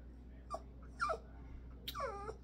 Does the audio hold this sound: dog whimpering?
yes